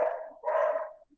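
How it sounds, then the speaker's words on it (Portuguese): Dog barking: two moderately loud barks close together, the second longer and fuller. "Parece os cachorros na minha rua."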